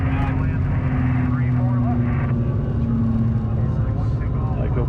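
Steady engine drone inside a small plane's cabin as it lands, with a pilot talking over the constant hum.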